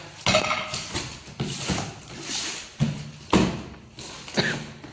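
Metal 3-litre and 5-litre pressure cookers being handled up close, with a series of sharp clanks and dull thuds at an uneven rhythm.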